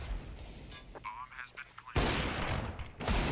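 Pistol fire from a Counter-Strike match at a BLAST.tv Major event crackles in quick bursts of sharp, close shots, broken by a short lull before dense firing resumes.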